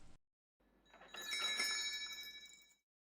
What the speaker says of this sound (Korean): 문이 닫히며 종소리가 따르릉 울렸습니다